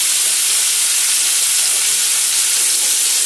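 Meatballs frying and browning in a pan of hot grease give a steady, loud sizzle with constant hiss and no talking.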